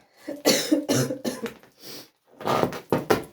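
Several harsh coughs in close succession, loud and near, with brief pauses between bursts.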